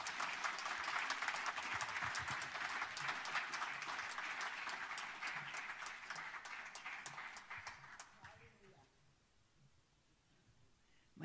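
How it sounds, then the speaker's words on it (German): A church congregation gives a hearty round of applause to welcome a speaker during a worship service, with steady clapping from many hands that fades out in the last few seconds, leaving near quiet. "Wir wollen sie mit einem kräftigen Applaus hier begrüßen."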